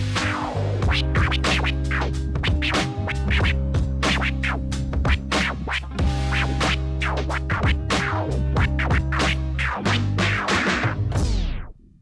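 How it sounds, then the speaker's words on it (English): Rapid turntable chirp scratches over a steady looping beat, a string of quick percussive zips cutting in and out, loud and close, ending with a descending slowdown. "Getting that very beginning percussive element of the scratch sample is vital for the chirp scratch."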